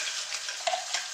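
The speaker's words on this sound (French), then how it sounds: "je vais mettre mon oignon et mon ail" Chopped onion and garlic frying in browned butter in a pan, a bright steady sizzle up close with a couple of brief crackling surges.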